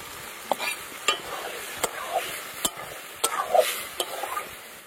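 Green peas added to oil-rich, well-cooked spiced masala for ghugni sizzle softly while a spoon stirs them, with sharp scraping clicks against the pan at irregular intervals over a quiet frying hiss.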